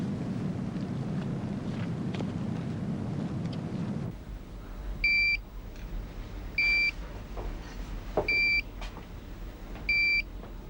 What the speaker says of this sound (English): she's only set off one alarm